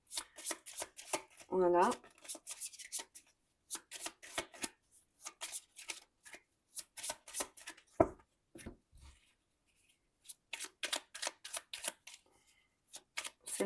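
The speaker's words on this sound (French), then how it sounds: "Moi, je vais brasser les cartes." Tarot cards being shuffled by hand: repeated quick riffling and sliding bursts in uneven runs with short pauses between, close and crisp, while a person talks in between.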